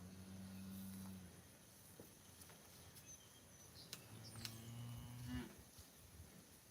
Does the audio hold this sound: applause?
no